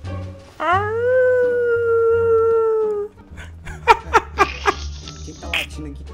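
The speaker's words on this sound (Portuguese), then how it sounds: "Quem tá latindo aqui?" A dog howls and barks in a GTA 5 roleplay game: one long, loud howl, then a rapid series of sharp barks close by.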